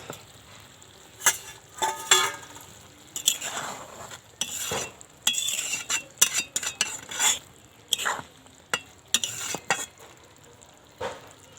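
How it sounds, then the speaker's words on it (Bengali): Curry with ash gourd and green chilies simmers in a pot, giving a soft bubbling sizzle, broken by repeated sharp clinks and scrapes of a spoon stirring against the metal. "এবার ঝোলটা ফুটতে শুরু করেছে।"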